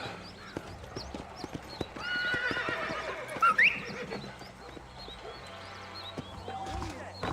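Horse in the Red Dead Redemption video game: rapid clip-clop hoofbeats of galloping with a sharp neigh midway, under game music and voices.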